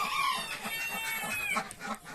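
Chickens cluck and squawk close by in quick, busy bursts, with a steady hiss of background noise underneath.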